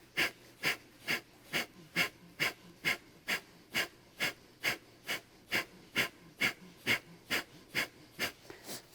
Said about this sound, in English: Again, breath of fire.